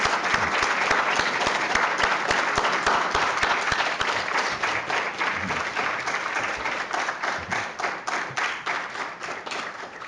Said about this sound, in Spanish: pido un aplauso para Carlos Pereira, por favor